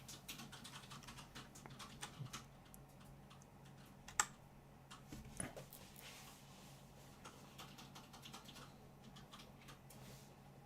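Computer keyboard keys clicking as code is typed, quiet bursts of irregular taps with a few sharper louder strokes, close and without speech.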